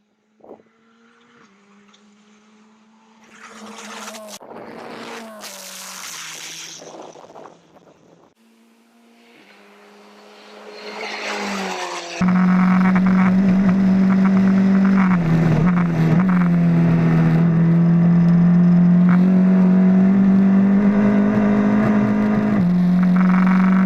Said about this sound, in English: having a turbo engine, particularly on the overrun, when we've got 20 of these things running around under brakes with the popping and banging